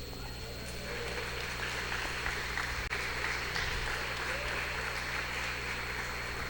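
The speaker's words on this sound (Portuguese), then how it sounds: "Você pode aplaudir o Senhor por isso?" A church congregation claps together during a worship service, producing steady, dense applause that fills the room throughout with no break.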